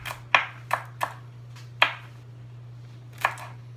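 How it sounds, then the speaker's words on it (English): A knife chops through a Swiss chard leaf vein on a cutting board, with six sharp, separate strikes spaced irregularly over a steady low hum. "Chop up the vein"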